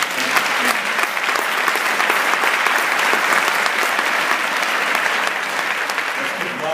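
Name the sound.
audience applause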